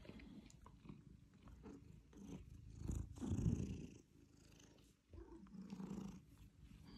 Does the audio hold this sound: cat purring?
yes